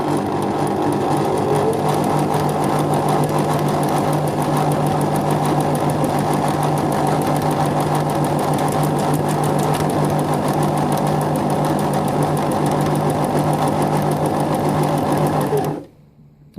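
An Elna Explore 340 sewing machine stitches an automatic buttonhole, a loud steady motor whir with rapid needle chatter running unbroken, then stopping abruptly at the very end.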